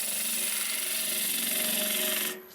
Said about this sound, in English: We're going to move up to the 3/8 English, 1/2 inch American bowl gouge